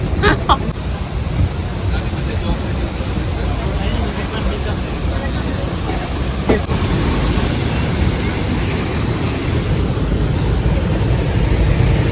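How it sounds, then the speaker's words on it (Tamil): Rushing water of the Rhine Falls waterfall roars in a constant broadband wash, heavy and close, with a brief voice near the start. "தண்ணி அப்படியே தெரிக்க நல்லா இருக்கு"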